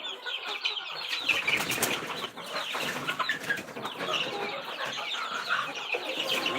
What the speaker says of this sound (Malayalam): ഞാൻ കോഴികൾക്ക് തീറ്റ എടുക്കാൻ വേണ്ടി പാത്രം ഒന്ന് എടുക്കട്ടെ കേട്ടോ